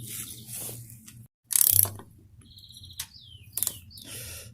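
A ratcheting Torx wrench tightens a pivot bolt, giving short bursts of crisp metallic clicking separated by pauses, close and fairly loud, with a few faint squeaks between strokes.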